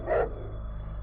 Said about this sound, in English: my dog finally noticed him and started barking